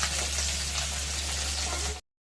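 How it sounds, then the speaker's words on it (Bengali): Tangra fish, a scaleless fish, fry in hot oil with a steady, close, loud sizzle and spatter that cuts off abruptly after two seconds. "ট্যাংরা মাছ কিন্তু ঠেকরায়, এগুলো আঁশ ছাড়া মাছ, যে কোনো আঁশ ছাড়া মাছ তেলে দিলেই ঠেকরাবে"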